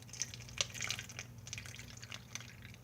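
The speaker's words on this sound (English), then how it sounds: "And then I pour my Gatorade in." Gatorade poured from a bottle into a plastic ice pop bag, a soft steady trickle with small drips and splashes, faint and continuous with no talk.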